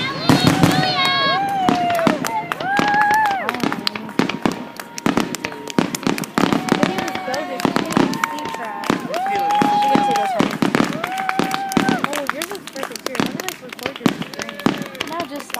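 Fireworks display at Heritage Park, with repeated sharp bangs and crackles plus rising whistles from nearby launches, irregular throughout, while people nearby talk and react.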